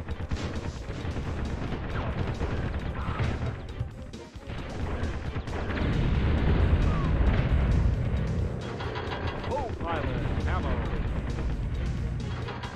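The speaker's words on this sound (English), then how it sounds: "Machine gun." Machine gun fire in Army Men: Air Attack 2 on PS1, dense continuous game combat with crashing impacts and booms, sustained loud bursts throughout.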